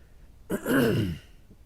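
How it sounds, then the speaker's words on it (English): A single throat clearing, a short rough rasp close to the microphone, following a moment of quiet. "Looks like I needed to clear my throat a little bit."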